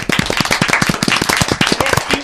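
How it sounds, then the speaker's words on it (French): Children clapping loudly together during a radio show, sharp close hand claps in a quick irregular stream, dense and steady throughout. "Vous pouvez applaudir, oui, allez-y, vous pouvez applaudir."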